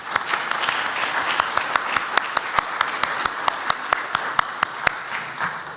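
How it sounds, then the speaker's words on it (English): Audience applause and clapping at an award ceremony in a chapel, a steady crowd wash punctuated by loud, evenly spaced claps from one nearby person. "I think we're going to do a lot of clapping today."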